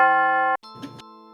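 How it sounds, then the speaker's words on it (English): Bell melody sample from a sample pack, a bright sustained bell tone that stops abruptly, then a short chiming phrase of softer bell notes rings out alone. "that's kind of a nice bell."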